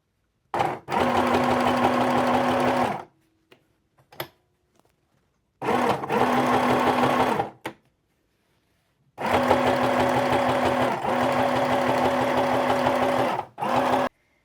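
A sewing machine stitches a small t-tunic dress with red thread in three rapid bursts of loud, close mechanical whirring. Short quiet pauses separate the bursts, with faint handling clicks between them.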